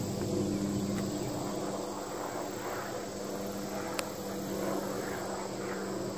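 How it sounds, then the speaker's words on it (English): A helicopter passes below a lakeside lookout, a faint, steady, distant drone under broad outdoor hiss with a low constant hum, with no clear rotor beat standing out. "There's a helicopter."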